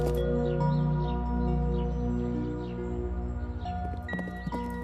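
Horse hooves clip-clop in a steady rhythm within a children's story, set against sustained background music with tonal notes.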